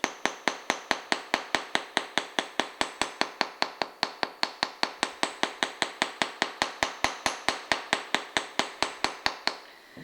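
Rapid, steady hammer blows on metal wire for a hoop earring, about four sharp metallic taps per second, continuing evenly with no talking.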